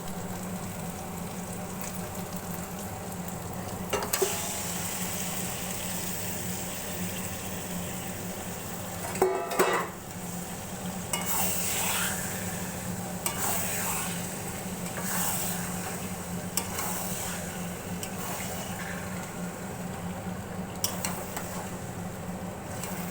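Chicken frying in spice masala with continuous sizzling and bubbling, plus repeated scraping and clattering as the pan is stirred, a few knocks standing out over the steady hiss.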